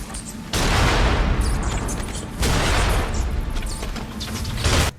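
Miniature cannon in Nioh firing two heavy booming blasts a couple of seconds apart, each with a long rumbling tail, loud and close over battle noise.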